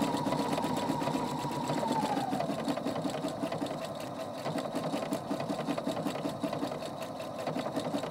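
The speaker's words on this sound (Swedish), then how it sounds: "Och nu syr den här stjärnor här. Och det matar framåt och bakåt åt alla håll och kanter." A sewing machine stitches a star pattern on a round piece of cloth, feeding back and forth. It makes a steady, close mechanical whir with rapid needle clatter throughout, and no one speaks.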